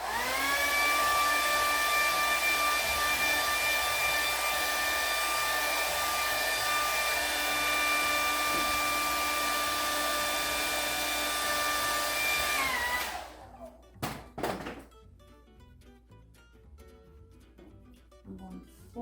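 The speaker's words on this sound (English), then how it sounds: "Pick up your blow dryer and make sure it's dry" A blow dryer drying a paint glaze whirs loudly and steadily for about thirteen seconds with a constant high whine, then switches off and spins down, followed by a few light taps and knocks.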